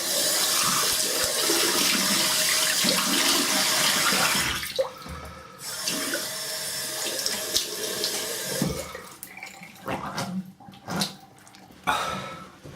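Water gushing from a bathroom tap at close range, a steady rushing flow that stops and restarts several times, leaving short splashes and quiet gaps toward the end.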